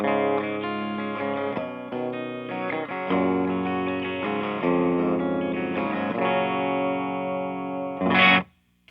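Electric guitar strummed and picked through a clean tube amp with no pedal, sustained chords ringing for several seconds, ending with a brief brighter burst before silence.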